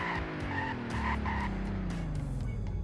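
A car in a driving video game brakes hard, its tires squealing in a steady skid over a continuous engine drone, loud and close for a few seconds.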